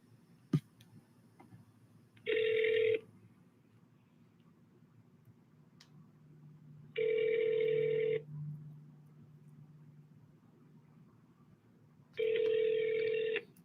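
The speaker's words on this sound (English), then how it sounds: "It's ringing." An outgoing telephone call rings back three times, each electronic tone burst lasting about a second and separated by long silent pauses, clear and steady over a quiet line.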